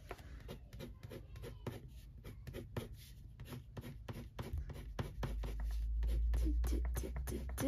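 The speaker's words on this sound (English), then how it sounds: "I might just get a little bit of a white pencil to just go through the middle of it" A white coloured pencil scratching across paper in quick, close, rhythmic strokes, soft and light, with a low background hum swelling toward the end.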